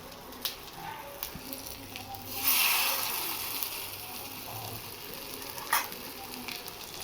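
Bitter gourd leaf fritters frying slowly in hot oil until crisp, a steady close sizzle with a brief louder hiss swell and a few faint clinks.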